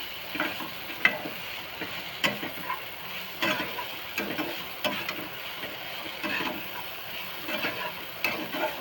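Flattened poha getting stirred in a frying pan, with steady soft sizzling under a repeated scraping, scuffing rhythm of the spoon against the pan, close and moderately loud, no talking.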